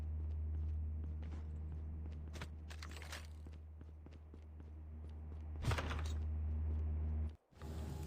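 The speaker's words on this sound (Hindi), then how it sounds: "मुझे पीछे से आवाज़ आती है चलने की।" Footsteps approach from behind in Call of Duty, appearing as a scattered series of soft steps and thuds over a constant low game hum, with a louder burst near the end before the sound cuts out.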